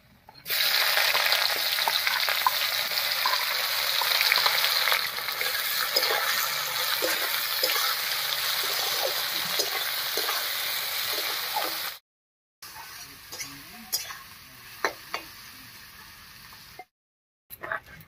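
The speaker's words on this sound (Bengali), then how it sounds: "ফোড়নটা ভাজা হয়ে গেছে, এবার এর মধ্যে দেবো পেঁয়াজ কুচি।" Chopped onions fry in oil in a pan with a loud, continuous close sizzle, followed by brief silence and a quieter stretch of frying with occasional stirring clinks.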